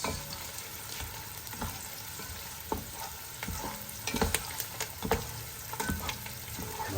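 Fresh curry leaves sizzle in hot oil in a pan while being stirred, a constant crackling fry with scattered spatula scrapes and taps, close up and without voices.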